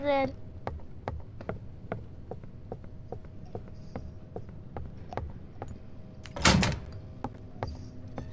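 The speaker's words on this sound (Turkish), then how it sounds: "Kapıyı açtım." A door opens in the Roblox game Doors with a short loud creak-like burst near the end, preceded by steady rhythmic clicks and a low background hum, while a voice talks.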